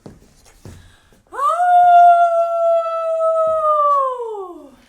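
A performer in a French theatre workshop imitates a wolf's howl during a fable, one long, steady, loud howl held for about three seconds that slides down at the end, close and clear after brief quiet noises.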